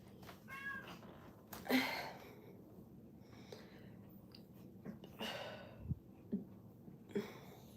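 A house cat meows several times in a quiet indoor room, with short harmonic cries spaced irregularly across the stretch, fairly close and moderately loud, along with some faint snuffling and movement noise between calls and no talking.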